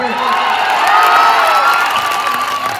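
A large political rally crowd in Bihar claps and cheers loudly and steadily, a dense wash of applause with whoops and shouts that holds throughout.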